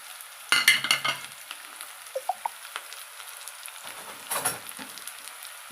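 Curry leaves, ginger, garlic and dried chillies dropped into hot oil, a loud burst of crackling sizzle followed by quieter scattered pops and a second sizzling flare, close by and without speech.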